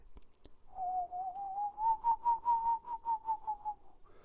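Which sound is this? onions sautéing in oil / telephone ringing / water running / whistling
whistling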